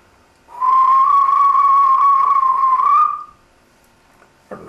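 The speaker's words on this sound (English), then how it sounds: "The guard blew his whistle." A single long, steady whistle blast, loud and piercing, held for about three seconds before cutting off.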